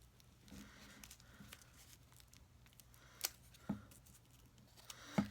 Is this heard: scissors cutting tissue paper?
yes